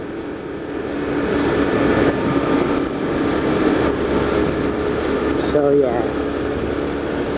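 A 125 motorcycle engine hums steadily on twisty roads, a constant mid-level drone with wind rush and a brief rise in pitch near the end, while someone speaks briefly.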